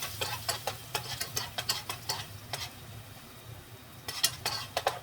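Onions fry in a pan for a ground beef dish, a soft steady sizzle broken by a series of quick utensil scrapes and clicks against the pan, close and fairly quiet.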